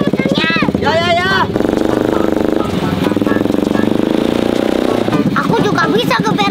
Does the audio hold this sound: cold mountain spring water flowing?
no